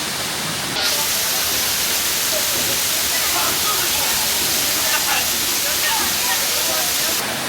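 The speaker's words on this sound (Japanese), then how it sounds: "すげえ、滝の裏側だ。" Heavy waterfall roaring up close from behind the curtain of falling water, a dense steady rush that fills the whole stretch with spray noise and hiss, loud and unbroken.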